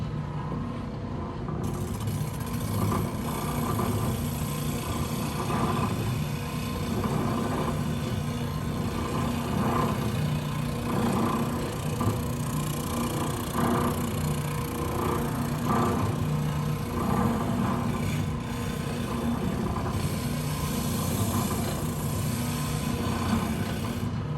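Steady electric sander droning as a wooden clock face is held against it and smoothed, a constant close motor hum with grinding friction that holds level for the whole stretch, no talking.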